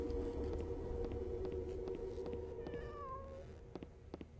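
A cat meows in the indie horror video game The Emulator, one drawn-out cry rising and falling over a steady background hum.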